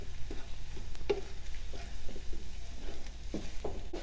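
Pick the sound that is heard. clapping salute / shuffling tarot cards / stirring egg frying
stirring egg frying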